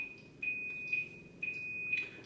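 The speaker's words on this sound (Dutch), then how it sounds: "Oh, dat is jouw alarm." An alarm goes off with a steady high electronic beep that pulses in repeated bursts about every half second, faint and heard alone in a quiet room.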